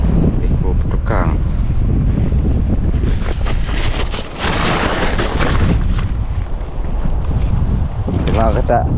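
A strong night wind roars steadily across the seashore, loud buffeting gusts on the microphone with surf-like wash underneath, while a faint voice briefly surfaces late on.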